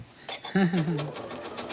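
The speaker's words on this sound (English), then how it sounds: "Sewing, I love the noise of a sewing machine." A home sewing machine runs with a new bobbin, giving a steady mechanical whir that carries through the clip, partly under a voice talking.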